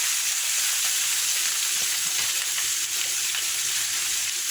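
Garlic, chicken liver and gizzards frying in a hot pan: a continuous bright sizzle and crackle, close and steady throughout, with faint stirring and no voices.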